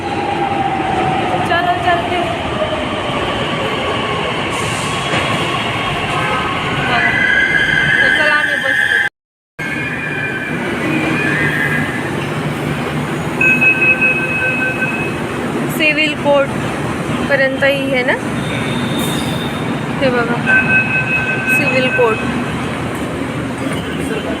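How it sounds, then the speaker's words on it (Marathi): A Pune Metro train rumbles and squeals into a station, loud and close, with brakes whining and screeching while people talk nearby. "तर बघा आपली मेट्रो आलेली"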